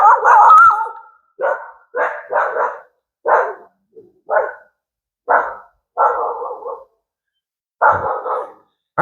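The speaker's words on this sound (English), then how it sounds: "What are you barking at?" A dog barks close by in about nine loud, separate barks, some single and some doubled, with uneven pauses between them and no other sound.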